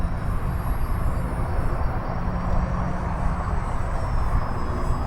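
A 1.6 m scale model Fieseler Fi 156 Storch plane on its maiden flight in calm wind gives a steady, loud, unbroken roar of motor and rushing air.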